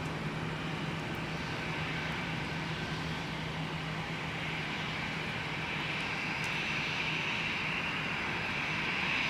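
Delta airliner taking off at Minneapolis–St. Paul airport, a steady, moderately distant engine roar that swells slightly toward the end, with no talking.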